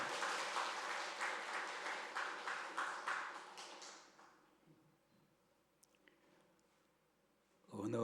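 A congregation applauds at a church installation service, a quiet run of clapping that rises in waves for about four seconds, then thins out and stops, leaving a near-silent room before a voice comes in at the end.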